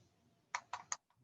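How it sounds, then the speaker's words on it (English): Three quick, close keystrokes on a computer keyboard, evenly spaced with short gaps, followed by a fainter fourth tap in a quiet room. "And there I'm typing scp"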